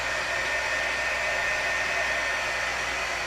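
A hair dryer blows steadily on wet paint, a constant close whooshing roar that holds level and unbroken the whole time with no voices.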